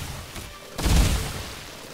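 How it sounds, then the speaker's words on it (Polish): Fireworks going off in a video game: a soft hiss followed by a single deep boom that swells and slowly fades, with no voices over it. "Fajerwerki!"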